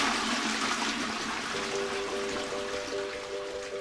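A toilet flushes with a rushing, gurgling surge of water that settles into a trickling refill, heard fairly close and alone for a few seconds.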